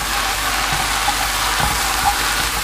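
Sour cream being stirred into mushroom noodles frying in a pan with a wooden spoon, a steady close sizzle with soft scraping and occasional light clicks.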